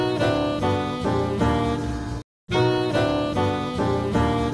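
Three horns play the original sample as a repeating phrase of stacked, punchy chords. It cuts out briefly mid-phrase, then resumes at steady volume.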